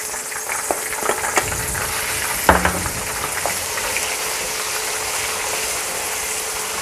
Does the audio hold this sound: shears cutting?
no